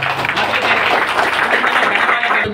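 An audience claps at a TDP blanket distribution event for the poor, a brief burst of crowd applause with some voices mixed in.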